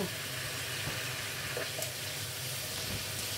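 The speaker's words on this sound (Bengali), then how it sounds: "মাছের টুকরোগুলো এর মধ্যে আরেকটু কষিয়ে নেব" Fried katla fish pieces sauté with potatoes in a pan over medium heat, a soft, steady hiss with faint occasional stirring taps, fairly quiet and even throughout.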